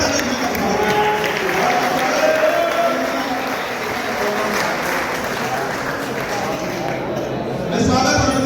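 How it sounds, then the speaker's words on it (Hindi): Loud, sustained applause from a large crowd at a Tiranga Yatra political rally in Modinagar, filling the whole stretch evenly without pause. "जोरदार ताली"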